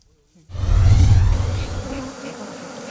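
Honey bees kept for honey production buzz loudly and close, a dense droning hum that starts abruptly and then eases to a steadier, softer buzz.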